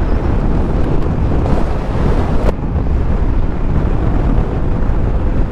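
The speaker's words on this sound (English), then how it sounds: "wind's blowing me everywhere" Strong outdoor wind roars across the microphone in a loud, continuous low buffeting, with brief gust swells, beside a BMW Urban GS motorcycle; no voices come through.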